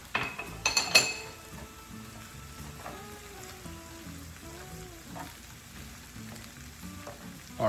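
Chorizo frying in a pan, opening with a few clinks and scrapes of a utensil against the pan, then a soft, steady sizzle crackling on alone.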